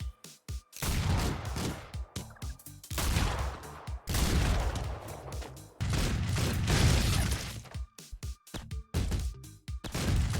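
Rapid gunfire and explosive bursts from the video game Streets of Rogue, loud and dense in repeated volleys with short gaps, game sound effects alone without talk.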